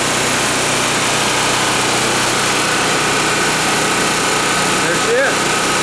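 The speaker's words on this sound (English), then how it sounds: "now the engine's running steady" A small Onan AJ generator engine runs at a steady idle, a constant loud drone throughout, with a faint squeak near the end.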